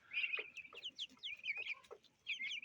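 Chicks and turkey poults cluck and peep in a busy, overlapping chorus of short chirping calls, close by outdoors with no voices.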